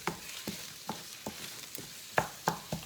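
Tomatoes cooking down in a pan for shrimp étouffée, a soft steady sizzle broken by about eight sharp scraping knocks of a spoon stirring against the pan, heard close with no talking.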